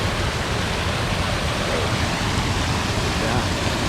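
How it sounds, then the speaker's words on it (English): Waterfall on the Bruce Trail, a dense steady roar of rushing water filling the scene, loud and close with no break. "this is actually kind of a cool moving waterfall"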